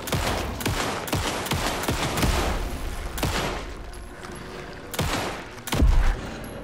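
Shotgun fire in the video game Alan Wake 2, a rapid series of loud, close blasts with booming tails, roughly half a dozen shots in uneven succession, with no talk over them.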